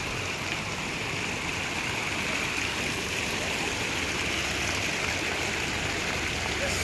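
Steady rushing water flows continuously, a broad even hiss like a mountain stream close by, with no breaks throughout.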